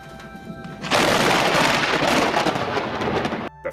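Loud, close thunder cracks in and rumbles on at full strength through a stormy night sky, holding steady for several seconds before a sharp cutoff near the end.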